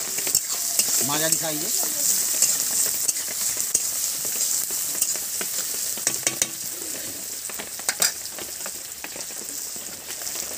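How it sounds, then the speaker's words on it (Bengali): Sliced onions frying in a pan for rui fish kalia, a dense steady sizzle with spatula clinks and stirring scrapes throughout, and a brief voice speaking early on. "এবার কিছুক্ষণ পেঁয়াজটা ভেজে নেবো বন্ধু"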